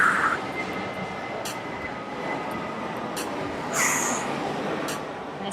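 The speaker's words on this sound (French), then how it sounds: "Il y a vraiment beaucoup d'avions qui passent derrière." An airplane passes overhead outdoors, a faint, steady distant roar that swells slightly and stays under scattered clicks and light background noise.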